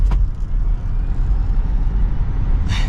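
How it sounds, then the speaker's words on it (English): Hyundai IONIQ 5 Limited AWD electric car pulling away in sport mode, heard from inside as a steady low rumble of road and cabin noise with a faint rising whine, close and continuous, no talk. "we are setting off now in the IONIQ 5 in sport mode"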